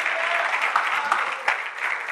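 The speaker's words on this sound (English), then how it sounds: "give God a hand clap of praise" A church congregation gives hand claps of praise during a service, a dense, continuous burst of clapping from many people, fairly loud and steady, with a few sharper claps standing out.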